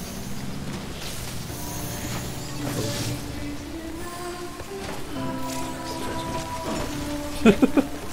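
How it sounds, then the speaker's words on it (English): Rain falls in the video game Death Stranding, a steady hiss of drops beneath layered game tones and low music, with a few brief sharp clicks near the end. "It is raining, to be fair."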